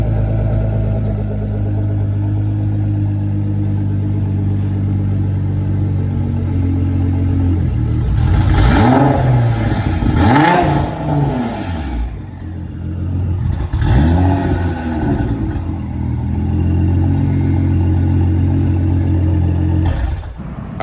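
A Honda S2000 engine with 4-inch exhaust tips revs hard in several sharp rising and falling bursts, loud and close, between steadier idling stretches with no voices.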